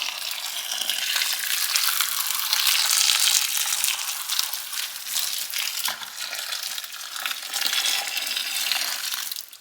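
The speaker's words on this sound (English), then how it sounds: "Okay, 2 liters of boiling water going in." Two liters of boiling water pour into pear wine must in a steady, rushing stream that lasts throughout, with no talking.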